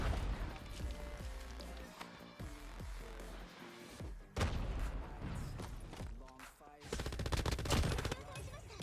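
An MG82 machine gun fires in Call of Duty Mobile, with repeated rattling bursts and sharp impact cracks coming in uneven waves, fairly quiet overall, with a couple of heavier crashes in between.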